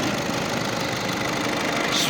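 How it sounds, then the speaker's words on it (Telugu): A 2016 Volkswagen Polo diesel engine idles steadily with a smooth, continuous low hum and no breaks. "ఇంజిన్ సౌండ్ కూడా వెరీ స్మూత్గా ఉంది, డీజిల్ ఇంజిన్ లాగానే లేదు"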